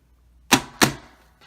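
A die cutting machine is folded shut, producing two sharp, loud clacks about a third of a second apart, followed by a faint click, against an otherwise quiet background.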